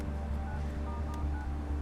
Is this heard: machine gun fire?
no